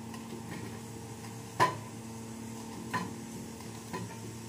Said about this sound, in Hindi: गोला गोला मैं काटूंगी पहले।